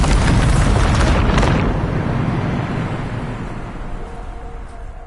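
A Bombarda explosion spell in the Hogwarts Legacy video game, a loud rumbling blast at the start that gradually fades into a long, low roaring tail.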